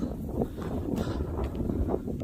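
Strong wind roars across a foggy mountain pass in the Yeongnam Alps, buffeting the microphone in loud, uneven gusts with a rustling undertone throughout.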